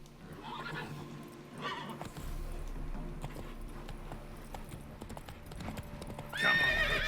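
Roach, the horse in The Witcher 3 video game, trots with steady clip-clop hoofbeats, a neigh rising near the end, over faint background game ambience.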